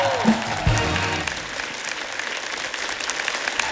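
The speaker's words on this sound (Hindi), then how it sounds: "एक बार खुल के तालियां हो जाए हमारे मेहमानों के लिए" A studio audience on a comedy talk show breaks into steady, dense applause after a brief voice, the clapping filling the room evenly and holding for several seconds.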